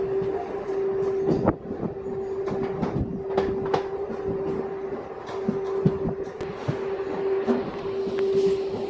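A Kacheguda–Raichur MEMU train rolls on after leaving Diviti Palli, with a steady rumble, a sustained hum and irregular wheel clicks and knocks heard from on board.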